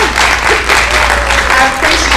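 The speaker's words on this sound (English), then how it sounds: "you deserve a round of applause for this great event" An audience at a water authority workshop event gives a steady round of applause, dense continuous clapping from a room full of people lasting a couple of seconds, close and fairly loud.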